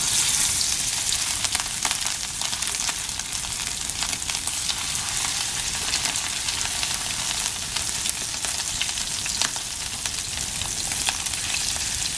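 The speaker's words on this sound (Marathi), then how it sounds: "तापलाय मस्त तवा तेल बघा लगेच तडतडायला गरम आहे" Fish pieces coated in salt, masala and turmeric fry in hot oil on a flat iron griddle (tava) in a Konkan home kitchen, giving a steady, loud, dense sizzle and crackle that carries on unbroken throughout, with no talk over it.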